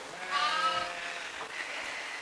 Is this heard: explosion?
no